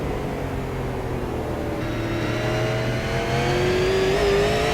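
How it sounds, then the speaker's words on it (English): A race car engine roars on throttle during the SARA Throwback 200 at South Boston Speedway, heard from an onboard camera, the close steady engine note rising in pitch as it accelerates with no talk. "So really just got on the throttle there and got himself loose in the backstretch"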